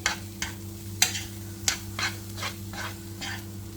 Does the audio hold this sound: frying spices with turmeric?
yes